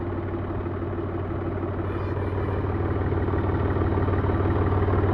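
Mahindra 275 Yuvo tractor engine running steadily at idle, a continuous low diesel throb with even rhythm that swells slightly louder toward the end, close by with no talk.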